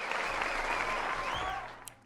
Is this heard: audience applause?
yes